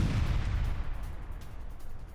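A building at an IDF base in Gaza is blown up in an attack, giving a deep, rumbling blast that rolls and fades over about two seconds, with no voices.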